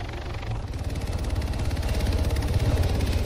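A helicopter comes down to land in a military video game, its rotor beating in a fast, steady low thump with a heavy engine drone that grows louder throughout.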